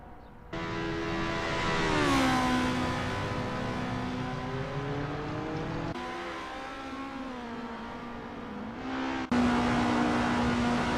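A Formula race car in a racing video game runs a practice out lap at Zandvoort, its engine whining steadily at high revs, pitch rising and dipping through gear changes and corners, loud and close with no talk.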